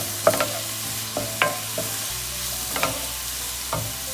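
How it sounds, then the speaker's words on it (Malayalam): Vegetables and prawns stir-fry for fried rice in a hot pan, a continuous sizzle punctuated by sharp metallic spatula clanks every second or so, loud and close. "അതിലേക്ക് പ്രോൺസ് ചേർത്ത് കൊടുക്കുന്നതാണ്."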